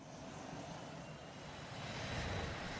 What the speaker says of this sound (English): the whole time, the plane is dropping like a brick, screaming towards the ground